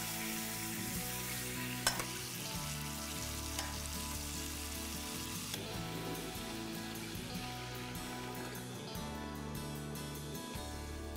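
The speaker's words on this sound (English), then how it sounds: "let's take these vegetables and toss them right in with the pork" Vegetables go into a pan with pork for chili verde and sizzle continuously, a steady dense crackle with occasional stirring scrapes, close and even throughout.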